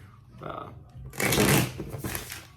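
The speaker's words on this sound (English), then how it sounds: "we'll do one more shuffle" Close tarot cards being shuffled, a brisk papery riffle lasting about a second, preceded by a brief voice-like sound.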